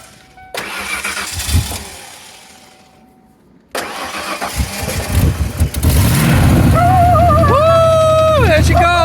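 A Ford Explorer with a 5.0 V8 fitted in a Ranger conversion cranks and fires up loudly, then settles into a deep, rumbling run close by, after a brief earlier cranking attempt, with people talking over it.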